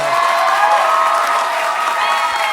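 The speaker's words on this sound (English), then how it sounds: "I just like applause" Applause and cheering from a fan-convention panel audience, a loud, dense and steady wash of clapping with high cheers and whoops on top, continuous for the whole stretch.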